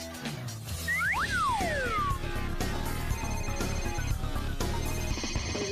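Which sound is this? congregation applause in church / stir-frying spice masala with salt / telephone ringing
telephone ringing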